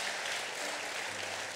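Church congregation clapping for God during a sermon, a dense steady wash of many hands applauding together, continuous and even throughout.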